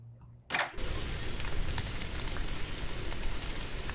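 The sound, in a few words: rain falling at night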